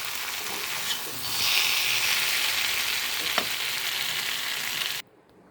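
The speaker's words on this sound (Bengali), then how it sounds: "সুন্দরভাবে ভাজা ভাজা হয়ে গেছে।" Taro stolons (kochur loti) frying in a pan with mustard paste, giving a steady loud sizzle and hiss with a light stir clink partway through, then it cuts off abruptly as the pan comes off the heat.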